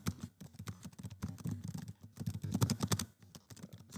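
Fast typing on a computer keyboard during a speed typing test, a dense, continuous clatter of quick keystrokes at close range with no talking.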